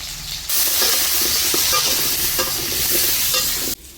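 Potato pieces frying in a pan of oil with turmeric powder for a home-style country chicken curry. A loud, steady sizzle starts abruptly and holds for a few seconds, then cuts off sharply.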